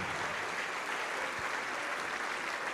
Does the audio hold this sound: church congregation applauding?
yes